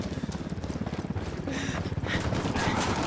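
Gunfire crackles in a Ghost Recon Wildlands firefight under sniper and mortar threat, with rapid rhythmic bursts and rising, dense combat noise and no speech.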